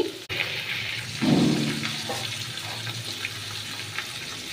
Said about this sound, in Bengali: এর মধ্যে দিয়ে দেব আমি দুধ।